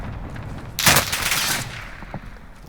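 Close-range gun fired in a battle royale video game (Warzone Rebirth solos), one sharp loud burst of shots followed by a fading tail and a faint later pop.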